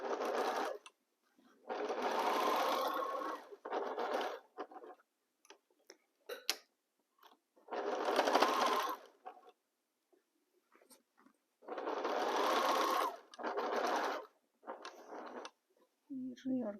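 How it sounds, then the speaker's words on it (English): A sewing machine stitching fabric runs in several separate bursts of a few seconds each, loud and close, with short pauses and faint handling noises between runs. "let's sew."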